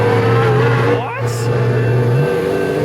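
A McLaren F1 GTR race car drives past with a loud, close engine note that dips briefly as it goes by, then holds a steady drone while a voice speaks over it.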